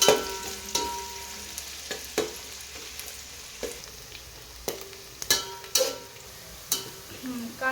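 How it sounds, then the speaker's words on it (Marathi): Chopped onion frying in hot oil for a chicken biryani, a steady sizzle broken by repeated sharp scraping stir strokes at an uneven pace, close up with no voices. "आता तेल तापले, आपण त्यात कांदा टाकूया. कांदा छान भाजून घेऊया."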